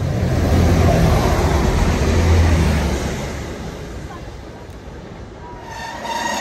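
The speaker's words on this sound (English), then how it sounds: "this is our next train" A train rumbles loudly past at close range between Yarm and Allens West, a heavy continuous roar with rattling wheels that slowly fades as it moves away.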